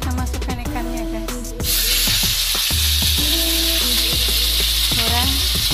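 Salmon goes into hot oil with frying ginger and the sizzle jumps to a loud, steady crackle, with a few utensil clicks and scrapes under it and no voices.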